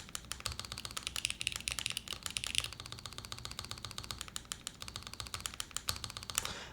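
Rapid, close keystrokes on a custom-built mechanical keyboard, a dense run of sharp clacky taps with a few louder strikes, no talking.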